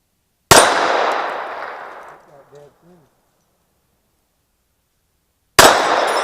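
Two sharp handgun shots ring out about five seconds apart at an outdoor range, each with a long decaying blast, and a faint metallic ping from a small steel target follows the first.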